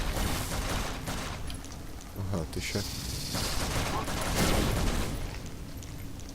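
Rapid bursts of gunfire in the video game Flashback crackle over a dense mix of effects, with a person talking briefly over them.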